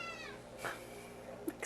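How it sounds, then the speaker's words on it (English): A house cat lets out a drawn-out meow at the start, followed by a few short, faint chirps and squeaks in a quiet indoor room. "Excuse our cat."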